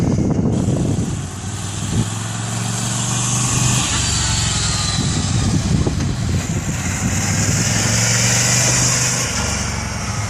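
A Ducati Scrambler motorcycle engine runs and revs as a learner rider works the clutch and throttle, giving a close, loud, steady drone with rising and falling pitch and no talking.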